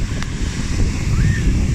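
Ocean waves washing onto a beach, a steady close rushing roar of surf mixed with wind buffeting the microphone, without speech, lasting under two seconds.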